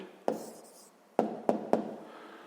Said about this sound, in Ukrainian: Є, записуємо відповідь